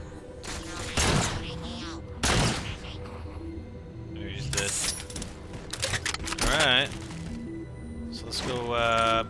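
Bursts of gunfire in the Halo 4 video game, several sharp cracking volleys with mechanical weapon sounds and electronic effects, mixed with a voice talking over the action.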